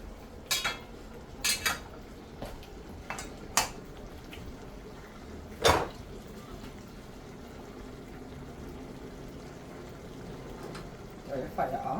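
Pots and utensils clatter on a stove while brown stew chicken and cowfoot with beans cook: scattered sharp metallic clinks and knocks, a few louder bangs, over a steady low kitchen background.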